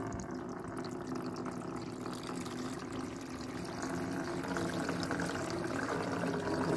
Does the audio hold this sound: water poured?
yes